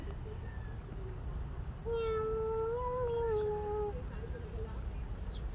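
A cat meows once in a long, drawn-out call lasting about two seconds, rising slightly in the middle, over a steady low background hum.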